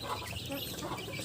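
Young chicks of widely different ages kept together in a brooder pen cluck and peep softly and continuously, a faint close chorus of small chirps with no talking.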